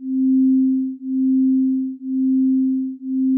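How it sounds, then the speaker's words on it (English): A steady generated pure tone sits 1 Hz above a tuning fork's pitch, its loudness swelling and dipping once per second in a slow, even beat, loud and alone. "I could also generate it higher, 1 hertz higher than the tuning fork frequency"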